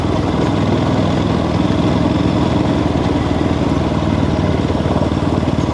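An Aprilia RS457 motorcycle engine drones loud and steady while riding on a poorly maintained, undulating road. The exhaust note is constant and close, with no pauses.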